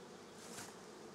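Honey bees buzz over a hive frame in a recently settled swarm's hive, a faint, steady hum swelling slightly midway, close by and with no talk.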